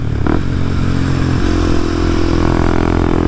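A Kawasaki KLX 230SM supermoto motorcycle engine runs loud and close with steady droning revs, a brief rising rev and clattering scrape near the start, then a sustained higher engine tone as the rider goes airborne.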